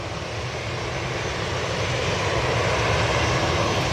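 An Aer Lingus airliner at Manchester Airport gives off a loud, steady roar of jet engines throughout, dense and continuous with no talk.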